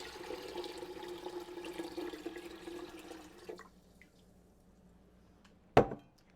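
Water pours into a pot for canning brine for coleslaw, a steady trickling splash for a few seconds that stops, followed by quiet and one sharp clink.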